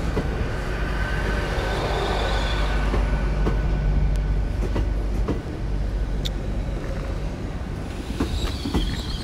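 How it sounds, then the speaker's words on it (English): A Class 802 IET train pulls into Exeter St David's station, its steady rumble and wheel noise filling a reverberant platform, with brief clicks and light squeals from the rails as it slows. "there's the other IET just arrived. 802 104 at the front of that one."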